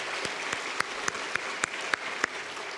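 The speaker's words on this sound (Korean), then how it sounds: "우리 귀한 특강 메시지 전해주신 우리 교수님께 박수 한번 보내주시죠" A church congregation gives a round of applause to a visiting professor after a special lecture at a Sunday afternoon service, a soft bed of clapping punctuated by sharp, regular louder claps about every quarter second.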